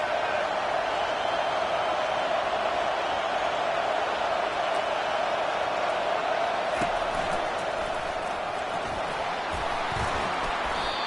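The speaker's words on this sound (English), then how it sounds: "This crowd trying to make life miserable for this offense." A football stadium crowd roars steadily and loudly, a dense, continuous wash of voices with no break from start to finish.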